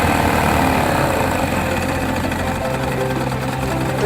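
A 1971 Mercury 500 outboard motor runs roughly, loud and uneven, chugging and sputtering continuously, with its low rumble shifting pitch partway through.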